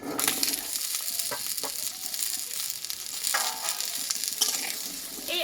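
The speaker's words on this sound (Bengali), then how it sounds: "এই আলুটা আমি একটু তেলে কষিয়ে নেব" Large chunks of cut potato fry in oil in a pan on a home stove, a soft continuous sizzle with occasional scraping stirs and clatters, close and fairly quiet.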